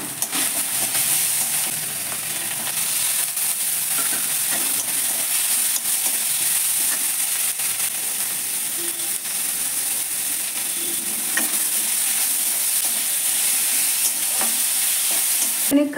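Spice paste of ground onion, ginger and Kashmiri chilli, with cashew and melon-seed paste, sautéing in a pan: a steady close sizzle with stirring scrapes throughout, no talking.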